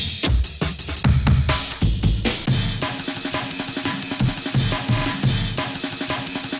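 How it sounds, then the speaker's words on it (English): Punchy Amen break drums play in a busy, driving loop, with crisp snares and cymbals over thumping kicks, loud and continuous until an abrupt stop. "here is just a compilation of different Amen Breaks"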